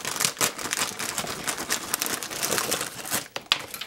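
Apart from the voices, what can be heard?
cutting open and handling a crinkly cracker bag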